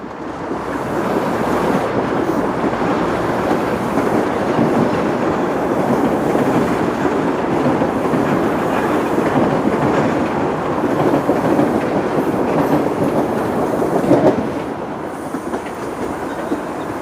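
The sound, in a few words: train passing on railway tracks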